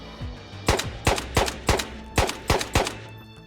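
Seven evenly spaced AK rifle shots from a tactical shooter video game crack out loud and close, each with a sharp report and brief tail, with no speech.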